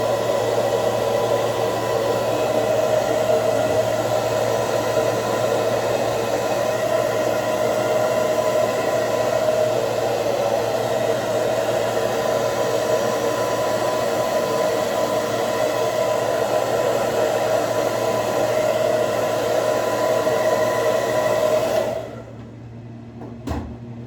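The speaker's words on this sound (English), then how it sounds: "So let's blow dry it." A hair dryer blows hair dry with a loud, steady whirring roar for over twenty seconds, then cuts off abruptly and leaves near silence with a faint clunk.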